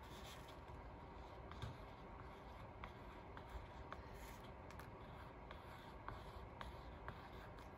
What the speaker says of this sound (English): maybe this will do, kind of a white pencil.